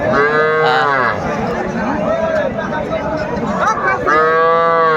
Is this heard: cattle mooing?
yes